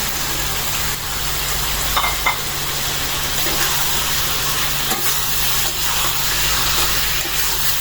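Tomatoes dropped into spice paste that has been fried down in a pan for a Bengali fish curry with new potatoes, a constant loud sizzle with scraping stirs and a low steady hum behind it.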